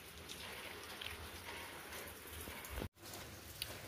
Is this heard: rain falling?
yes